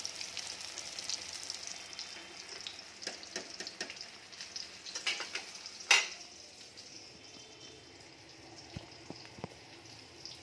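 Food frying in a pan, a steady soft sizzle and crackle with a few brighter pops and one sharper clatter midway, heard alone at moderate distance.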